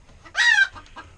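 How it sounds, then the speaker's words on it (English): Chickens in a coop give a loud, close burst of squawking clucks, followed by softer scattered clucks, with no talking. "Come on now, chickens. You guys are being insane."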